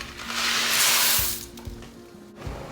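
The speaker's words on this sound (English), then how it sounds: "pour the noodles in." Noodles poured into a pan of boiling water give a loud hissing, bubbling wash that swells in the first second and a half, then eases into a steadier simmer marked by a few low thumps.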